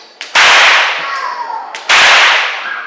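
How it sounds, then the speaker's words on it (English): Two loud stockman's whip cracks, swung up and down alongside a horse, snap close by, about a second and a half apart, each one ringing out briefly afterward. "there's 2 methods we use to crack the whip."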